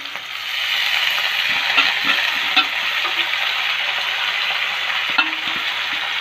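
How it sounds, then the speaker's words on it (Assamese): Small potatoes stir-fry with freshly gathered Indian pennywort in a home kitchen, giving a steady close sizzle with scattered scraping and clinking strokes of a spatula against the pan and no talking. "এতিয়া ইয়াত মানিমুনি সৈতে ভাজিছোঁ"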